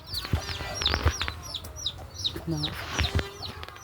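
Chickens clucking and chirping nearby in a rural yard, quick repeated calls overlapping with scattered thumps and handling noise, a person speaking briefly.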